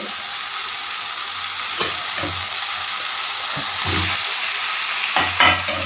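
Potatoes added to a frying pan, sizzling: a loud, steady hiss of frying oil, with a few soft stirring knocks and clatters over it.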